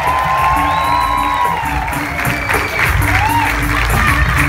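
Loud, steady applause and cheering from a live concert audience greeting a trombonist, with whistles and whoops rising over continuous clapping.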